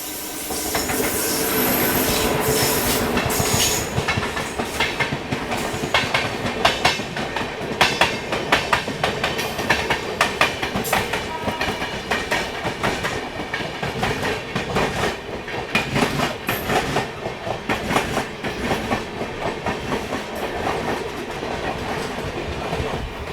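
A train, the Seshadri Express, rolls steadily into Jolarpettai Junction station with loud clickety-clack from the wheels and a continuous rumble, and metallic squeals rise now and then as it slows.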